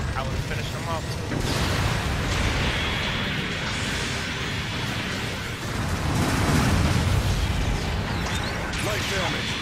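Explosions and heavy weapon fire from a Gundam mobile suit battle in space, as an enemy mobile suit is destroyed, forming a loud, dense and continuous roar of booms and bursts while a voice talks over the combat.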